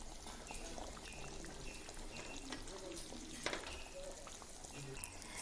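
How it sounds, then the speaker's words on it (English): Goan chicken xacuti boils in a pot with soft, faint bubbling and popping, a low continuous simmer with scattered small pops. "Boiling it for some time, for at least another 5 minutes."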